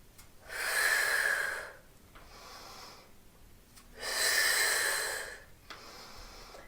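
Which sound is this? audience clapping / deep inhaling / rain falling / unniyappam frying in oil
deep inhaling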